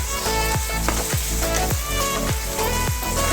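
Onions frying with salt in a pan for a capsicum and tomato curry, a steady loud sizzle with rhythmic scraping stirs about every half second, no voices.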